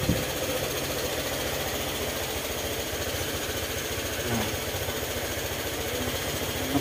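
A Honda ADV150 scooter engine idles with a steady, rattly mechanical chatter and fast even pulsing, close and continuous, with a faint tapping from the valve clearance running through it.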